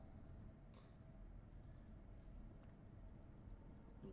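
Rapid mouse and key clicks from a computer game, soft and close, come in quick irregular bursts over a faint steady background hum.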